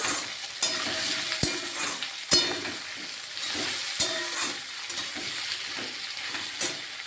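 Vegetable curry with potatoes sizzles and fries in a pan while it is stirred, with sharp utensil clinks over a steady close-up hiss.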